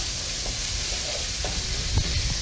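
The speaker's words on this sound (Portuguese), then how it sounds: "Nós vamos fritar esse bacon aqui" Bacon sizzling in a frying pan as part of a home Sunday lunch, a steady low crackle and hiss with a few soft pops and stirring clatters near the end, fairly quiet and close.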